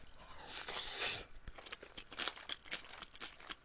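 Soy sauce marinated shrimp crunching as someone chews up close, with loud crisp bites at first followed by repeated wet, crackling chews.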